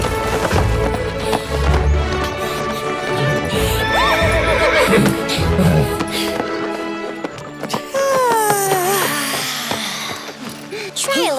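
Playmobil toy horses on a horse farm gallop with rapid clip-clop hooves and several loud neighs and whinnies, all under a busy music bed with voices speaking over it.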